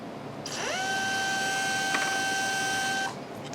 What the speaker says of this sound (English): That's my precision drill here.